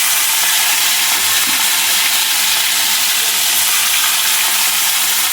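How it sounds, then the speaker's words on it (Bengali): Prawns frying in hot oil in a home kitchen, a steady broad sizzle and hiss running continuously and fairly loud, with no voices. "তো এবারে আমি রান্নাটা চাপিয়ে দিয়ে আগে চিংড়ি মাছটা একটু ভেজে নিই।"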